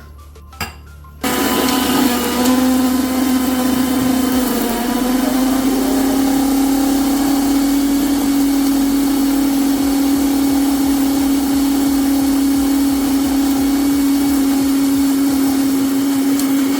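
A mixer grinder grinding hibiscus flowers with water runs loudly and steadily with a constant high whine, starting abruptly after a brief quiet moment and continuing without pause.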